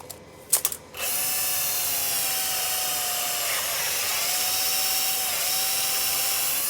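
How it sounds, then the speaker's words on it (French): Cordless drill with a 4 mm bit boring into the rotor of a Cazaux Oenoflex 200 pump: a short tap of handling, then a steady, close, high-pitched whine of the drill running continuously, alone without talk. "Prenez la visseuse, mettez la mèche de 4, donc 3 cm du bord."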